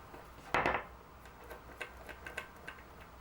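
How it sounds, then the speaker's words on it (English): A small stubby screwdriver works screws out of a wearable multi-tool, giving one sharp scrape near the start and then a series of quiet, close metallic ticks and clicks. "we'll get this nice little stubby screwdriver in, and we'll take a couple of screws out"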